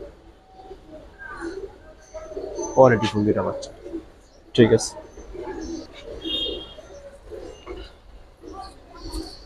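Pigeons, Giribaz and Afsan breeds kept for sale, give soft coos and short calls among quiet background noise while people talk nearby.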